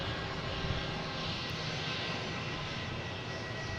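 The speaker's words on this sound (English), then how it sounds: "American Airlines coming in from Miami." An American Airlines Boeing 737-800 arriving from Miami, a continuous even jet engine rumble at fairly low level from a distance, with no talking.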